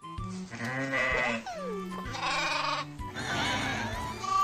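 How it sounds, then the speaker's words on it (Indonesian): A mother sheep bleats in a series of loud, wavering calls, with short pauses between them, close by and with no talking. "ini ada induk domba teman-teman."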